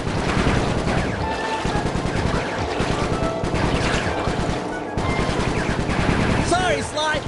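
Machine gun fire in a Sly Cooper game, near-continuous rapid bursts of automatic shots, loud and close, broken by brief pauses, with game voices talking over the shooting.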